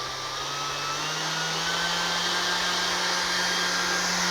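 A Milwaukee M18 18-volt cordless 5-inch random orbit sander whirs at high speed, a steady close motor hum with an even whine that holds without pause.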